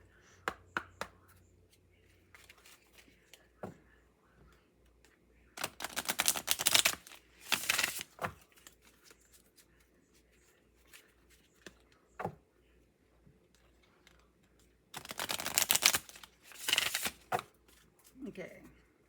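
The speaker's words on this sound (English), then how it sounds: "Let's do a quick shuffle." Bursts of tarot cards being riffled and shuffled, two longer flurries with a few quieter taps and handling noises in between, close up.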